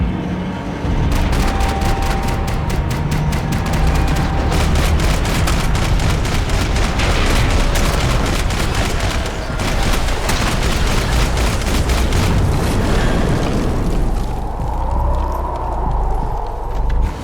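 Rapid bursts of gunfire rattle in the video game Max Payne 3. The shots are loud and close, crackling in dense volleys with heavy impacts over a low rumble. Toward the end the firing thins out.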